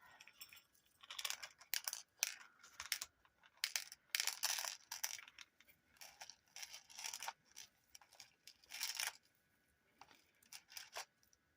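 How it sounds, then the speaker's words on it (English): Small scissors snipping through a strand of beads, a quick series of crisp close clicks and snips with short pauses between them, quiet and without talk. "I'm going to just cut this right in half"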